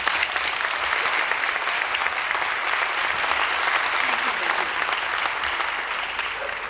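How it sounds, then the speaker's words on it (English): Campus audience at a college lecture event gives sustained applause for a guest in the front row, a dense, even clatter of many hands clapping at moderate distance. "Vicki, would you stand so we can give her some applause?"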